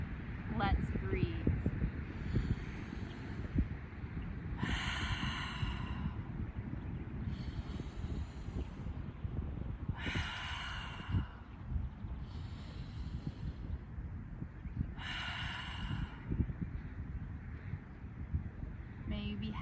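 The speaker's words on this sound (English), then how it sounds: "I like to close out class the same way every time, with 3 audible cleansing breaths together." Three long, deep group exhales in a yoga class at the close of a session, each a broad breathy rush of air about five seconds apart over steady low background rumble.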